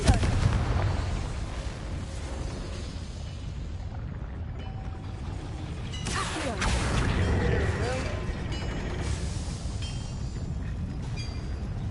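A Confringo fire blast spell cast in the Hogwarts Legacy video game, heard as a sudden loud whooshing burst partway through that rises over a steady, busy bed of game ambience.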